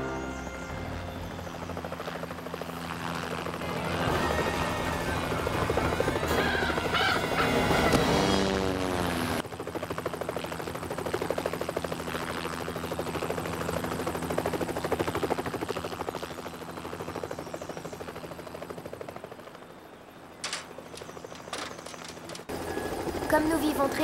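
A helicopter drones steadily with a dense rotor roar, joined by music and a voice speaking over it, with a brief break partway through.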